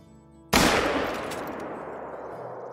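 A single rifle shot fired at a buck in the hunting video game Call of the Wild, one loud sudden crack followed by a long fading rumble of echo.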